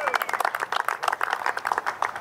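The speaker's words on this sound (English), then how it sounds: "Good round of applause for William Humphreys, the superintendent." An audience at a senior open golf awards ceremony applauds with close, busy rhythmic clapping that holds steady for a couple of seconds, carried along by a single unbroken wave of hands.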